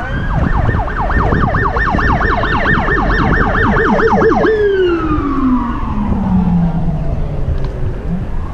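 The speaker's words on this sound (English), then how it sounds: "All I hear all day is sirens." Loud emergency vehicle sirens in a city neighborhood, a rapid wailing yelp that switches to a long falling wail as the vehicle passes close by, heard alone without talking.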